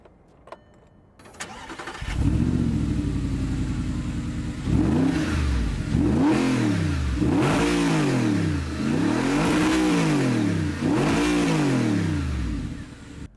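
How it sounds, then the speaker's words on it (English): An early Audi R8 with a V8 cranks, fires up and settles, then revs hard in repeated rising and falling sweeps as it pulls away, a loud close engine note with no talking. "Let's go for a drive and see what this V8 R8 is all about."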